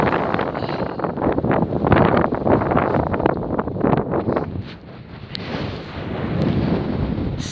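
Strong wind buffets the microphone in loud, continuous gusts with rumbling low-end roar, swelling and easing over several seconds.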